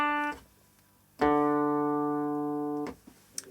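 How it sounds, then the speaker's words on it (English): A guitar sample played back on an Akai S950 sampler: a short note cut off, then a longer clean sustained tone held for nearly two seconds before stopping abruptly, quiet and without speech. "There's your guitar sound."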